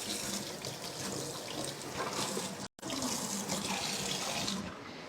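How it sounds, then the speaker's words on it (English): A kitchen tap runs steadily while hands are washed under it during a live food-processor cooking session, with a constant close rush of water broken by one very brief gap. "I'm just going to wash my hands."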